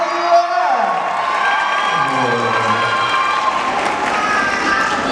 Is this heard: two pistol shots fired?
no